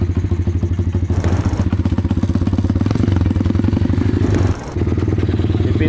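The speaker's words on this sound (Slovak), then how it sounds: "Necháme ju trošku nahriať." A Minirocket pit bike's small engine idles while warming up after a choke start, a loud, close, steady rapid putter with mechanical clatter and two brief sharper bursts.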